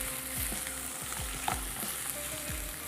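Cream being stirred into a mixture in a pan after the stove is switched off, with a soft continuous sizzle and repeated scraping stir strokes, close and without voices.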